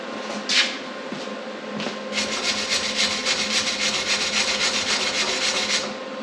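Brush scrubbing paint off metal on a street stock race car's rear end, a few short scrapes followed by a sustained rhythmic rasping rub, close and alone.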